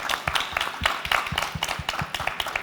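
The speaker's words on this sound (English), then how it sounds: "Can I get a round of applause for all of our speakers?" An audience applauds after a climate tech founders panel, a steady patter of many hands clapping at moderate volume with no voices over it.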